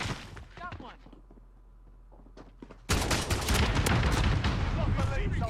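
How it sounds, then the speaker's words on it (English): Explosive rounds from an AA-12 shotgun in the video game Modern Warfare, a sudden loud barrage of booming blasts erupting midway after quieter game sounds and brief talk, continuing densely to the end. "I think it's slug rounds and explosive rounds"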